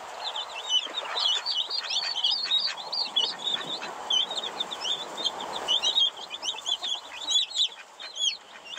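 Young chicks, some light brown and some dark, chirp and peep continuously in quick, overlapping bursts, fairly close with no voices.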